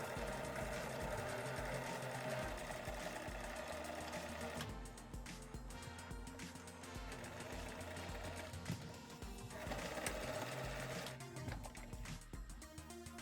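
A sewing machine stitches the left and right sides of a fabric face mask, humming continuously and steadily with a dense mechanical whir that barely varies throughout.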